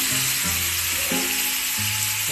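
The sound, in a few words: pork chop frying in olive oil and butter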